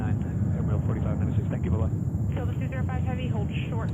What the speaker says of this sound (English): Spanish Air Force,